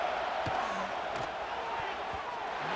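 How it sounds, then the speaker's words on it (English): In the EA Sports College Football 26 video game, a stadium crowd on a football game day roars as a dense, continuous wash of noise, with a few faint thuds underneath. "this crowd is turning it up a notch"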